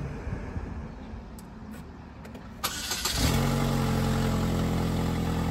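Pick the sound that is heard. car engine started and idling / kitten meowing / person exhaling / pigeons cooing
car engine started and idling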